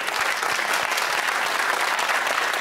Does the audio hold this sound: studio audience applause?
yes